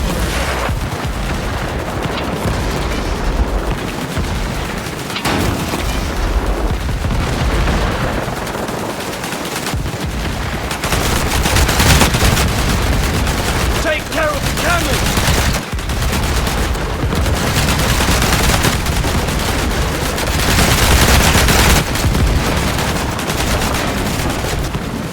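Continuous battle din from the PC war game Land of War: dense machine-gun fire and rifle shots rattle throughout, punctuated by heavy tank cannon booms, loud and unbroken for the whole stretch.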